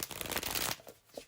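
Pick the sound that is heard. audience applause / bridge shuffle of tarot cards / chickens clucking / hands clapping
bridge shuffle of tarot cards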